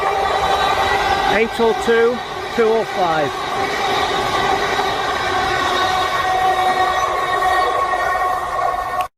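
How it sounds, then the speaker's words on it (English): A steady mechanical rumble of a passing train near a steel girder bridge on the Oldham–Delph railway walk, with droning engine tones and a voice briefly speaking over it early on. "Can never miss a passing train."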